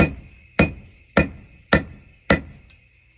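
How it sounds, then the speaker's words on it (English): A blacksmith's hammer striking a hot steel S hook on the back of an anvil: five heavy, evenly spaced ringing blows about half a second apart, close and clear with no talk. "So now I'm going to bring it to the back of the anvil and I'm going to hit right here."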